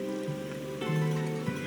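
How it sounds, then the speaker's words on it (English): Rain falls steadily in the video game Wuthering Waves, a continuous soft hiss that sits under sustained tonal music throughout. "But today's rain feels different."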